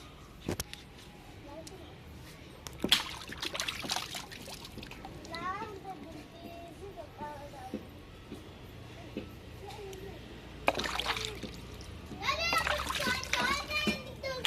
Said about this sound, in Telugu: కాయలు అయితే మంచిగా కడిగి కడిగిదామండి వాష్ చేసుకోవాలి శుభ్రంగా